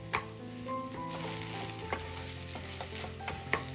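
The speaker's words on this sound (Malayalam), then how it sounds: "എല്ലാം കൂടിയിട്ട് ഒന്ന് മിക്സ് ചെയ്തെടുക്കാം." Boiled potato mixture being stirred and mashed in a pan for a banana flower and egg dish, with close, irregular scraping and soft thuds of a spoon against the pan over a faint background hum.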